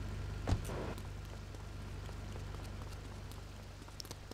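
In Grand Theft Auto 3, soft rain patters and hisses at a low level, with one thump near the start and scattered light drips over a faint low hum.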